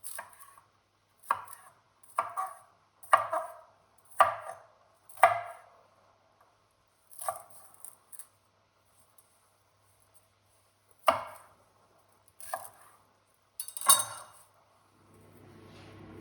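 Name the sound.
chopping celery with a knife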